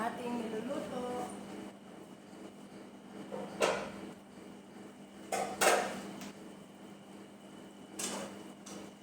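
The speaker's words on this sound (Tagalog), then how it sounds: "Takpan po natin muna ang ating niluluto" A lid goes onto a pot of cauliflower cooking on the stove, giving a few sharp metallic clinks and taps spread over several seconds above a low, steady kitchen hum.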